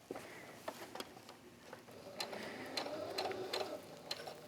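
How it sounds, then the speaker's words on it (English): A home sewing machine advanced slowly by its hand wheel while stitching trim onto a garment collar, giving faint, irregular mechanical clicks and soft ticks at close range with no voices. "I'm gonna use the hand wheel and then pivot."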